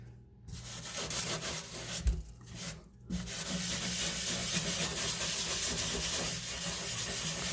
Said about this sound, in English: Let me remove this plastic with this little scrubby.